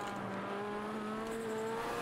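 A Pikes Peak race car in the Assetto Corsa racing game holds a steady, high-revving engine drone at speed on the Nürburgring, with rising tonal whine throughout and no talk.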